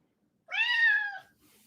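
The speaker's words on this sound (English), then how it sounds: "So he's an indoor-outdoor cat." A domestic indoor-outdoor cat gives one clear, drawn-out meow at close range, with quiet silence before and after.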